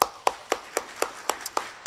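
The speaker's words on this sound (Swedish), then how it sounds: "Jag tycker vi ger den här panelen en stor applåd." Audience applause at the close of a panel discussion sounds as a steady, even run of about eight crisp claps, fairly close and distinct, each spaced roughly a quarter-second apart, with no speech.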